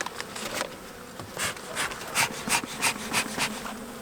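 Honey bees buzz busily around an open hive, a steady swarming drone broken by repeated louder passes as individual bees fly close by, with no talking.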